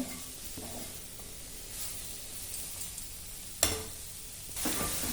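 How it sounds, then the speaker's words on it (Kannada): Mushrooms sauté in oil over a medium flame for a mushroom curry, a steady soft sizzle with occasional stirring scrapes and one sharp clink partway through, close and alone. "ಮೀಡಿಯಂ ಫ್ಲೇಮಲ್ಲಿ ಇಟ್ಕೊಂಡು ಒಂದು 5 ನಿಮಿಷ ಚೆನ್ನಾಗಿ ಬಾಡಿಸ್ಕೊಳ್ಳೋಣ"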